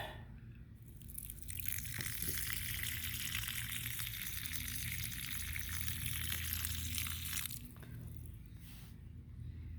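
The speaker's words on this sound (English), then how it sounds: "I'm going to open the valve now just to see how the valve works." Water gushes steadily from an opened rain barrel spigot valve, a loud continuous splashing flow lasting several seconds before it cuts back.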